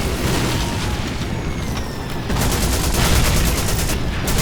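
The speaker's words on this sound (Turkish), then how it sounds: "Acaba bu tank yanımda patlayacak gibi hissettim ama" Loud, continuous battlefield din from the Call of Duty 2 video game: heavy booms of a tank explosion and rolling gunfire fill the whole stretch, swelling louder partway through, with no talking.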